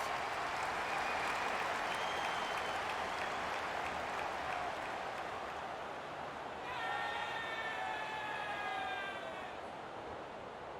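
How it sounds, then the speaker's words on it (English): A large stadium crowd at an AFL match roars steadily throughout, a dense wash of cheering and noise, swelling slightly near the end. "The crowd noise tells you all you need to know."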